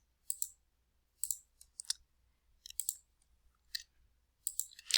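Computer mouse clicking while text is selected in a Microsoft Word document, a run of short, crisp, close clicks in loose pairs and small groups across a quiet room, with no talking.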